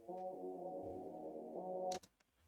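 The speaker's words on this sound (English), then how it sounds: "Then this is a trumpet." Trumpet sound in an FL Studio beat: a single sustained brassy note held for about two seconds at moderate level, then cut off abruptly, heard alone.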